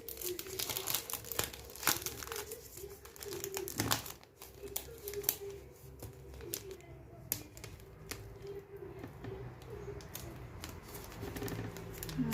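Paper mail envelopes and packets, including store-bought pouches, being opened by hand: steady crinkling, crumpling and tearing of paper close by, with faint talking now and then.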